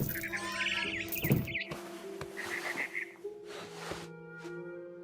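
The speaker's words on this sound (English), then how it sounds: "Then I heard chirping outside my window." Bird chirping in the video game What Remains of Edith Finch, faint repeated high tweets over a steady tonal game soundtrack.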